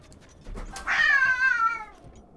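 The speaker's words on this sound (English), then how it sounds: "Cats. Gotta love them." A cat in the Breath of the Wild video game gives a single drawn-out, wavering meow, close and clear over a quiet background.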